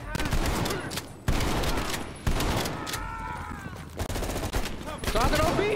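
Shotgun blasts from the Call of Duty Cold War campaign boom loudly in quick succession, several heavy shots with short gaps, mixed with other game sounds.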